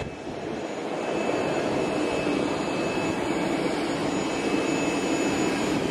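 A loud, steady jet engine roar with a high whine from an airliner at Odesa International Airport holds constant throughout, close by and unbroken.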